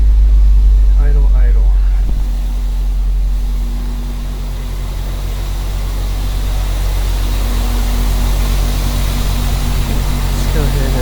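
A car engine idles steadily with the air conditioning switched off, a constant low rumble and hum that stays loud and close throughout, with a brief voice over it.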